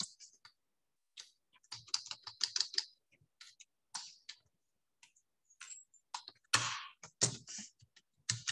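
Quiet clicking keystrokes on a computer keyboard while code is written, irregular bursts of rapid taps with short pauses and one firmer thump near the end, close and soft with no voices.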